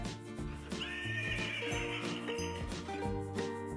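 A horse on a farm whinnies over steady hoof clip-clops, mixed with a bright musical backing, loud and continuous throughout.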